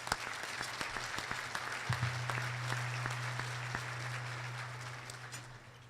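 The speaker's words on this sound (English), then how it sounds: "I want to thank them once again with a round of applause." A luncheon audience applauds at a Rotary awards ceremony honoring the Seattle Fire Department, with moderately quiet, sustained clapping across the room and a steady low hum running beneath it.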